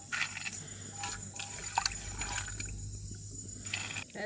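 Soaking water drains off peanuts in a village kitchen, a continuous close trickle and splash with a few clinks against the vessel, steady throughout.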